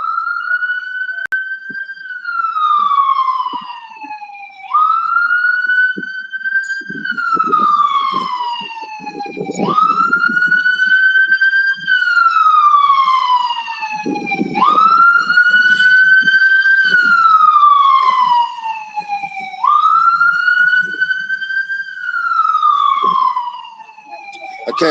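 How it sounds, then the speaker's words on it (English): Emergency vehicle sirens wail loudly and nearby, rising and falling in a repeating cycle roughly every five seconds for the full length, with faint low rumbles beneath. "Sirens, bro."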